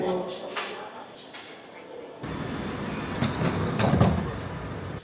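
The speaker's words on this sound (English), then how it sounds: "Okay, made it on the train now." London Underground tube train riding toward Green Park, a rumbling, rattling carriage roar that rises and grows louder partway through, with brief voices and clatter before it.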